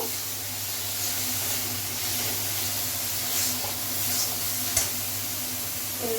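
Spices with red chili powder fry in a pan before tomato paste goes in, giving a steady, soft sizzle with faint stirring throughout and no talking.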